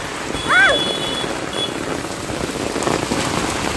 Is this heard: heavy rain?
yes